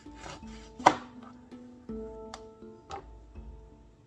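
A knife cuts a slice for okra water, a single sharp chop against a board followed by a few faint ticks and taps, close and quiet, with a steady tonal hum underneath.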